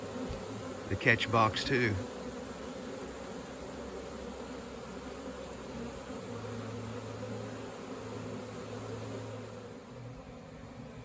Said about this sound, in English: there are just a few bees flying around it